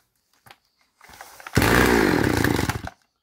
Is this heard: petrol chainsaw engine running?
yes